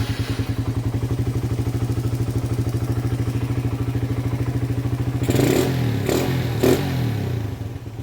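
A small motorcycle engine with a 28mm Keihin carburetor, fitted to a flood-damaged bike, idles with a steady, fast throbbing pulse, close and loud, then several clattering knocks and blips near the end.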